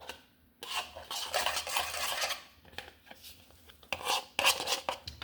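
Cottage cheese flatbread ingredients being mixed in a bowl, with close scraping, clinking and stirring strokes coming in uneven bursts and short pauses.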